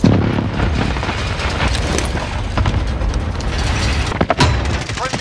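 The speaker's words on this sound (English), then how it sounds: "Airstrike target marked." Airstrike explosions in Call of Duty Warzone boom loud and dense, sustained rumbling blasts filling the whole stretch with sharper bursts near the end, mixed with game noise.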